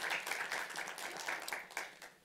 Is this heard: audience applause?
yes